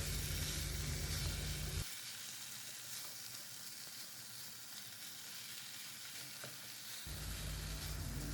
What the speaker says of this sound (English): I will keep on stirring the chicken in between.